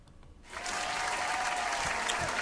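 Applause from a group swells in abruptly after a brief quiet moment and carries on as a steady, dense clatter of clapping, moderately loud and close, with no talking over it.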